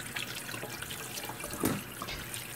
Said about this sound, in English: So I take each piece individually and I wash it thoroughly.